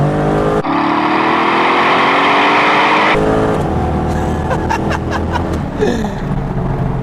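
A twin-turbo car on Mickey Thompson tires floored from about 60 mph on a highway, a loud rising engine roar through gear changes, with someone chuckling toward the end.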